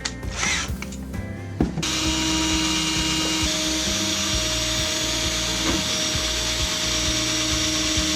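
A power drill runs steadily and loudly at close range, grinding continuously into steel after a few short starts at the beginning.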